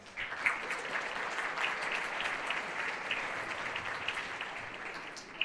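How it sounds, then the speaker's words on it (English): Steady applause from a crowd at a school holiday jazz band concert, filling the whole stretch at an even level, with scattered louder claps and no voices on top. "let's give them a big round of applause"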